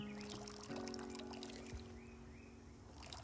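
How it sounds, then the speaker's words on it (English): Watering can pouring onto plants in the video game Hokko Life, a soft, quiet trickle of water with a gentle splash partway through, heard alone over faint background music. "Should I even water the plants?"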